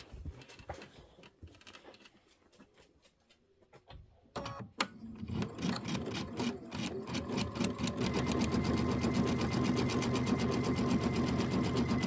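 A sewing machine stitches pieced quilt blocks for a four-patch and pinwheel project, starting with soft scattered clicks, then a few sharp knocks before the motor settles into a steady, rapid whirring run that grows louder toward the end.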